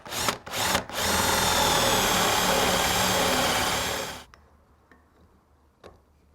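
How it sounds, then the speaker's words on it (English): A cordless drill with a Forstner bit bores into timber in one loud, steady whine lasting about four seconds, then cuts off, leaving faint handling noises. "pick up our Forstner bit in the cordless drill and drill that out"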